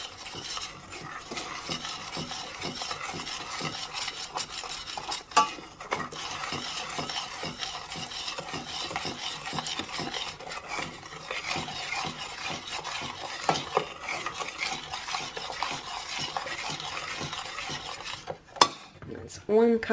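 A spoon stirs oat milk into chocolate pudding in a pot, scraping and clinking steadily for about twenty seconds at close range with a soft sizzle beneath, plus a couple of sharper knocks near the end and no speech.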